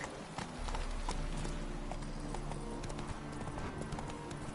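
Roach the horse's hooves clip-clop steadily at a trot in The Witcher game, a close, continuous rhythm over a low ambient hum with faint game sounds.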